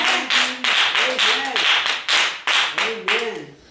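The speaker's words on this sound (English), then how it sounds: "Clap your hand and give him praise." Congregation clapping hands together in a church service, a steady run of sharp, loud claps in rhythm with voices singing and calling out over them.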